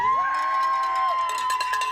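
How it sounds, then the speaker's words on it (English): A crowd gives a loud cheer and whoops as a high school salutatorian steps out of her house, with children's shouts mixed in, sustained and close throughout. "she was greeted with a loud cheer"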